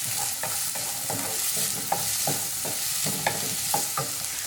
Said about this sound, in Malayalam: ഇനി നമുക്ക് ഇതിലേക്ക് സവാള ഇട്ട് കൊടുക്കാം. നന്നായിട്ടൊന്ന് മിക്സ് ചെയ്തെടുക്കാം.